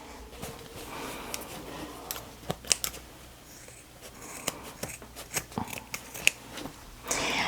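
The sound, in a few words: small scissors cutting excess zipper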